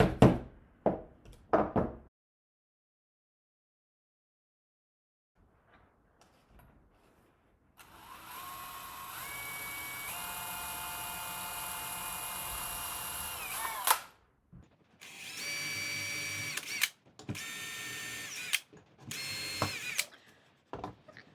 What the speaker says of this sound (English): I'm actually going to pre-drill the two on the bottom first too, before I go ahead and screw in my hinge